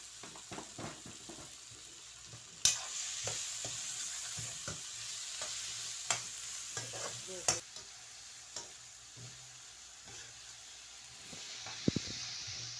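Masala of onion, tomato and spices fries in oil in a pan, giving a soft sizzle broken by sharp stirring clicks and scrapes at uneven intervals.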